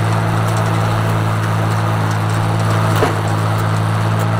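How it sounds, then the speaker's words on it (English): An Oliver tractor pulling a mower through the first cutting of hay on a Michigan farm, a loud, steady engine drone with a constant low hum throughout. "here's how I'm mowing the corners out."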